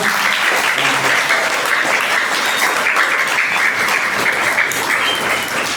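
Lively, dense applause from an audience at a leadership gathering with students, loud and unbroken clapping lasting nearly six seconds.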